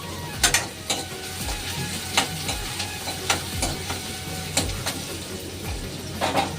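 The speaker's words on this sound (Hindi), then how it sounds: "एक चम्मच से चलाऊँ।" A spoon stirs a pan of food for a special snack, giving a series of sharp scraping clicks at irregular intervals against a faint sizzle, close and fairly quiet.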